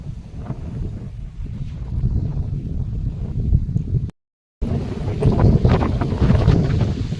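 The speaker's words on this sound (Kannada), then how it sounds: "ಗಾಳಿ ಅಂತೂ ಭಾಳ ಬಿಟ್ಟೈತಿ ನೋಡ್ರಿ." Strong wind blows outdoors across a farm field in light rain, a steady rough rumble buffeting the microphone close up, broken by a brief silent gap before gusting on just as loud.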